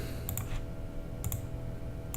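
Two quick pairs of computer mouse clicks, close and crisp, over a quiet steady hum.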